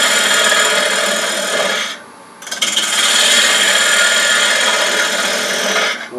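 Bowl gouge cutting a Bradford pear bowl spinning on a lathe: a loud, continuous rasping, scraping cut that breaks off briefly near the two-second mark, then resumes steadily until near the end.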